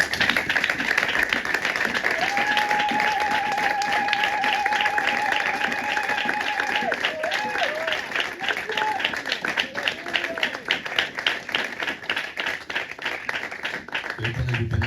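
A church congregation at a Sunday service applauds in sustained, dense clapping for about fifteen seconds, with a sung or called-out voice rising over it partway through.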